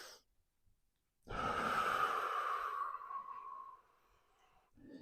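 A slow, audible breath during a strap-assisted hamstring stretch: a long airy exhale that swells, then fades over a couple of seconds, close and quiet, with a brief breath sound at each end.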